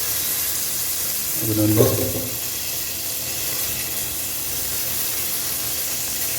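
Curry leaves drop into hot oil already holding mustard seeds, cumin and pepper in a village kitchen, giving a steady, close sizzling hiss throughout, while someone speaks briefly over it.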